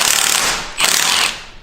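An impact wrench loosens the head bolts on a Cummins diesel engine fitted to a Mustang, giving two close, loud bursts of rapid mechanical rattling separated by a brief pause, with no talking.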